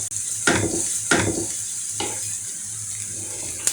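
Chopped onion sizzles in a hot pan while a utensil scrapes through it in three distinct stirring strokes, with a steady frying hiss between them and no talking.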